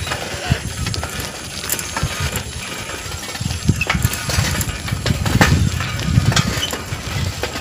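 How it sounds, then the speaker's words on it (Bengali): A bicycle ridden outdoors, with its chain and freewheel giving a steady rapid ratcheting tick, fairly close, over rumbling road and wind noise, with no talking. "সকালবেলা ভিডিও বানানোর জন্য সাইকেল চালাচ্ছি এখন"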